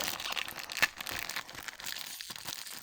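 A Roblox trading card pack wrapper crinkles and tears as someone works it open, with a steady rustle of plastic and one sharper rip partway through. The sound is fairly quiet and close, with no talking.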